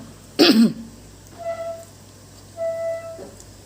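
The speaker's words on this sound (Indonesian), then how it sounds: "Yang buat video maaf lagi batuk ibu-ibu." One sharp, close cough bursts out, followed by quiet background with faint tonal hums.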